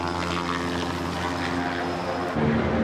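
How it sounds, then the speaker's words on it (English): A helicopter flies overhead on a TV series set, its rotor and engine drone a steady, loud, continuous roar that swells slightly near the end, with no talk. "Trained to roll every time they see a chopper fly."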